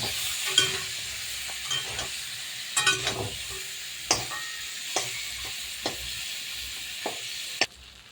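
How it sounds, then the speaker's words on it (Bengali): Shrimp frying in hot oil while being stirred in a pan, a continuous sizzle broken by repeated spatula scrapes and knocks spaced about a second apart, close and clear. "এবার আমি এটাকে একটু নেড়ে ছেড়ে ভাজা করব চিংড়ি মাছটা"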